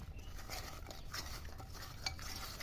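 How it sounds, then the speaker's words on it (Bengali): Koi fish are worked together with salt and turmeric in a bowl, making a soft, wet, squelching stir. The sound is close but quiet, with faint clinks and no talk. "প্রথমে লবণ পরে হলুদ হলুদ দিয়ে একটু মাখালাম"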